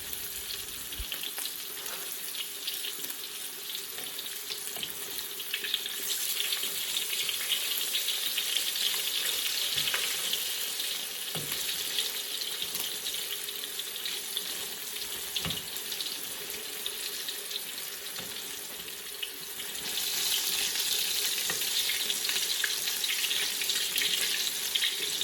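Tofu frying in a pan until golden brown, a continuous crackling sizzle with bursts of spattering, steady and close, swelling louder near the end.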